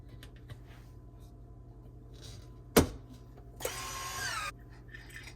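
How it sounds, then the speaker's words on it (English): A vacuum sealer attachment on lidded jars of food runs faintly: a sharp click, then a brief buzzing pump burst of about a second over a quiet background. "Okay, get it plugged in and vacuum seal."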